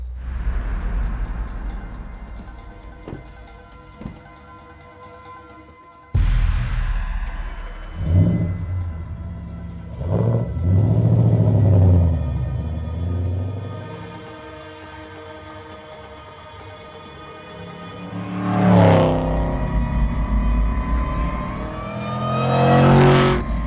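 A Roush Mustang V8 revs hard in repeated surges, a deep booming rumble that rises and falls loudly in several bursts after a quieter idling start, with no talking.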